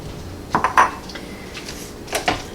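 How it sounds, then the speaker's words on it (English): A utensil stirs cheese into a red beans and rice filling, giving a few light clinks and scrapes against the bowl in two short clusters over a quiet background. "And just give that a little bit of a stir."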